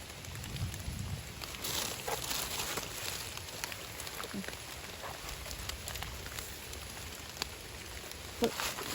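Rain falls steadily through a forest during mushroom foraging, a dense, even hiss with occasional sharper drop taps and faint rustling footsteps, continuous for the whole stretch.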